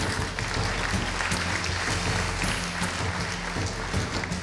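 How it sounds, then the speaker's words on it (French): An audience claps steadily, a dense wash of applause that holds at an even level throughout. "Voilà 5 très grands pros que l'on peut applaudir bien fort également."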